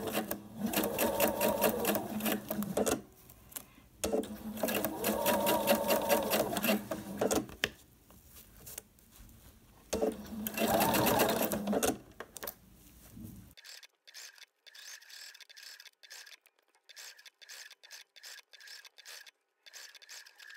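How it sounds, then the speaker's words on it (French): Sewing machine with a zipper foot stitching a zip onto a mesh foam pouch at stitch length 3.5, three long steady runs of rapid mechanical chatter with short pauses, then a thinner, quieter mechanical ticking to the end. "j'ai mis mon pied spécial zip et je vais coudre à 2-3 mm"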